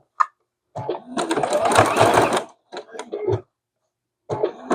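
Sewing machine stitching around a small circle on a teaspoon appliqué quilt block, short close bursts of rapid needle chatter separated by pauses.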